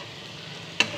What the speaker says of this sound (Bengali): পেঁয়াজ, গাজর এই আনাজগুলো ভেজে নিচ্ছি।